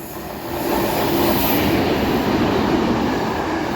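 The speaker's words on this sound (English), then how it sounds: "passing through now is the Freightliner 90s going from Felixstowe to Daventry" A freight train hauled by Freightliner Class 90 electric locomotives, running from Felixstowe to Daventry, passes close by on the West Coast Main Line with a loud, sustained rumbling roar that swells in quickly and holds steady.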